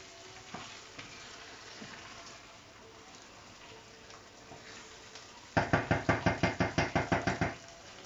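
Coconut chicken gets stirred in a cooking pan, a soft simmering hiss with faint scrapes, then a run of about a dozen sharp rhythmic knocks of a utensil against the pan near the end, close and without talk.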